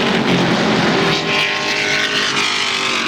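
Stock cars race flat out down the straightaway at Motordrome Speedway, a loud continuous engine roar that swells and holds steady without a break, with no voices over it.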